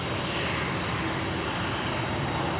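A fixed-wing airplane at Los Angeles International Airport, landing on runway 25 left, gives a steady, loud, broadband engine roar that holds evenly throughout with no voices.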